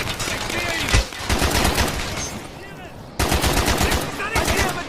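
Call of Duty Black Ops battlefield gunfire: loud, close bursts of rapid machine-gun fire in two long volleys separated by a short lull, with shouted voices mixed in.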